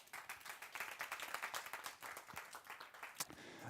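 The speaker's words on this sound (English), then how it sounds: "Once again, another round of applause." An audience at a creativity and mobility forum applauds a policy panel with lively, distinct hand claps forming a rhythmic, fairly quiet patter that keeps going steadily from start to finish.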